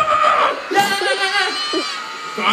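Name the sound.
audience shouting loudly to vote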